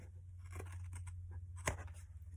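Quiet, close snips of scissors trimming paper for a chipboard junk journal cover, a few short crisp cuts over a low steady hum.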